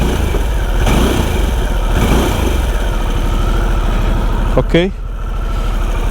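A 2024 Harley-Davidson Sportster S (RH1250S) engine idles steadily up close with a loud, throbbing low rumble, and a single revving blip near the end; a brief spoken word is heard.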